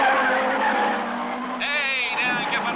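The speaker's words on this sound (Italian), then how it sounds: "le prime macchine che si schiantano contro il muro" Race cars from a 1967 film skid with sharp tire squeals over a steady engine roar, the screech rising abruptly partway through with a crash-like burst near the end.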